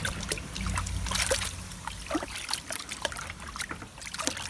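Air filters being rinsed in clean water, a soft continuous trickle and sloshing with irregular splashes, close and fairly quiet, with no talking.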